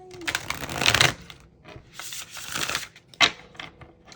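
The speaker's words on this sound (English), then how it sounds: "Okay, I'm gonna shuffle it one more" Close-up riffle of a deck of tarot cards being shuffled, crisp papery bursts in a few short rounds with quiet gaps between them.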